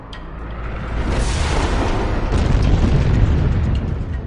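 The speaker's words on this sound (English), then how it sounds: "When the Earth was being bombarded constantly by asteroids" Asteroid impacts bombarding the early Earth, heard as a loud, deep rumbling explosion that swells and roars continuously for several seconds.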